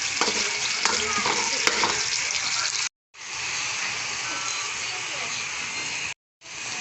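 Wild bitter gourd (ampalaya) and its fruit sauté in a pan, giving a bright continuous sizzle with stirring scrapes, cut by two brief silences, while a voice talks over it.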